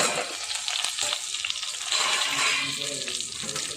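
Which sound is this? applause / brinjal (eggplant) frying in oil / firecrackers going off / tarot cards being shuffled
brinjal (eggplant) frying in oil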